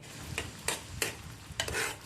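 Dal and amla (Indian gooseberry) pieces cook in a pot, a soft bubbling, simmering sound broken by a few sharp scraping stirs against the pot.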